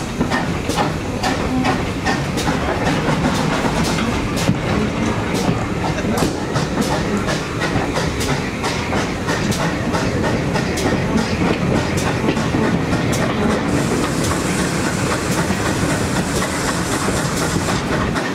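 A Kent and East Sussex Railway heritage train runs steadily along the track toward Tenterden, with continuous rumbling and rhythmic clickety-clack from the wheels, some hiss, and heard from on board.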